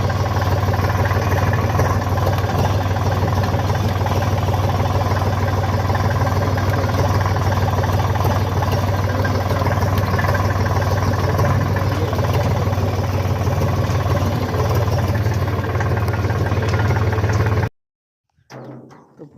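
A farm tractor idles steadily with a low, even mechanical hum and rattle held close for about seventeen seconds, then cuts off abruptly into near silence.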